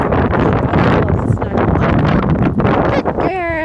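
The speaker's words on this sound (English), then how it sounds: "it's very windy" Steady, loud wind buffeting the microphone throughout, a dense rumbling roar, with a brief voice near the end.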